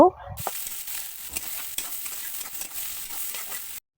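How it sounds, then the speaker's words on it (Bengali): Onions and chilies are frying in oil in a wok with a soft, continuous sizzle and the scrape of stirring. A brief sharp sound comes at the start, and the sizzle cuts off at the end. "এরপর আমি কড়াইয়ে কিছুটা তেল দিয়ে পেঁয়াজ মরিচগুলো আগে একটুখানি ভেজে নেব"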